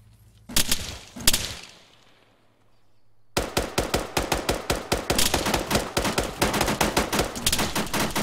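Gunfire in the Arma 3 video game: two sharp isolated shots with a fading tail and a pause, then a sustained run of rapid automatic bursts, loud and close.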